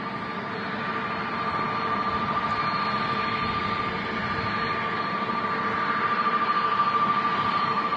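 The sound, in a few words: airliner jet engines at Manchester Airport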